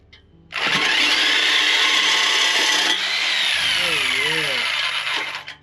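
A power tool, likely a reciprocating saw, cuts through the exhaust pipe of a Fiesta ST during a Stage 1 MBRP XP Series exhaust install, a loud continuous grinding buzz that shifts pitch partway through and cuts out abruptly.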